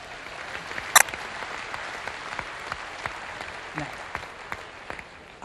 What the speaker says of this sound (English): Give him a round of applause, would you, folks?